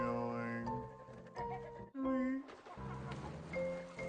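Small bird chirping and clucking in short tonal bursts, its calls pitch-shifted and layered with playful sound effects, fairly loud and continuous with a brief gap midway.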